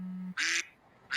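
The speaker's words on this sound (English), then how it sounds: "The duck is quacking." A duck gives two loud, raspy quacks separated by a short pause, close and clear, preceded by a brief steady hum.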